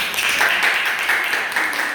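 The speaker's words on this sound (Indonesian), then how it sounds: "tepuk tangannya untuk saudara Bapak" Classroom students clapping for a classmate after a problem-solving discussion, a dense, steady burst of applause lasting about two seconds before cutting off abruptly.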